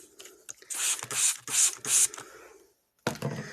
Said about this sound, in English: I just spray the paper towel